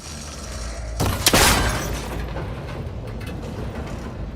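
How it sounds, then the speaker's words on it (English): A cable connector shot and broken in Horizon Forbidden West: a sharp loud crack and shattering burst, followed by a fading rumble and faint debris over ambient game sound. "It should break if I shoot it."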